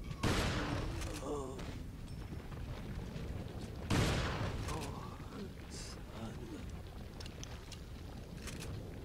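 Loud gunfire in Resident Evil 4 as shots are aimed at an enemy's head: two heavy, booming blasts about four seconds apart, each trailing into rumbling echo, with a voice talking in between.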